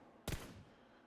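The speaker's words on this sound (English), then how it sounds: "this is an example of standing in one place and shooting moving targets" One sharp gunshot rings out from the PUBG Mobile training mode. It is a single loud crack with a short decaying tail, heard alone.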